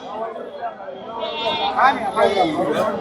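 Sheep bleating amid the bustle of a livestock market, with several calls rising over steady crowd chatter and people talking nearby.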